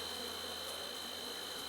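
Honeybees buzzing around an open hive during a beekeeping inspection after requeening, a faint, steady, continuous hum with no voices.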